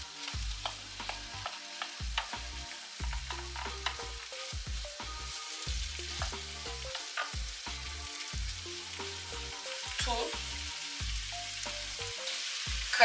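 Cooked meat and mushrooms sizzling in a pan while a utensil stirs them, a steady frying crackle broken by repeated scraping and clinking strokes, close and moderately loud with no voices.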